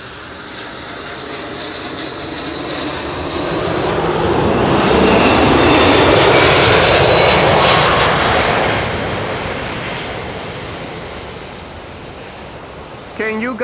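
An airliner lands on the Kaagbaan runway 06 at Schiphol, its engine roar swelling from a distant rumble to a loud peak, then fading away.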